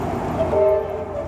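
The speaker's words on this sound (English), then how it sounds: "It's a train." A train goes by with a sustained horn toot and a low rumble of rail cars, loud and close.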